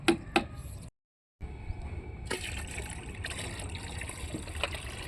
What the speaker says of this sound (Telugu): నేను దీనికి 5కి ఒక 5 లీటర్స్ మాత్రమే వేసుకుంటున్నాను వాటర్